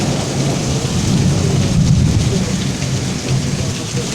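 Heavy rain pours steadily during a thunderstorm under a tornado warning while a deep roll of thunder swells and fades beneath it, loud and enveloping, with no voice.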